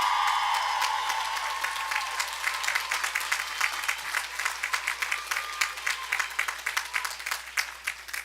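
A university commencement crowd bursts into sustained applause and cheering that gradually thins into scattered individual claps, heard from within a large audience.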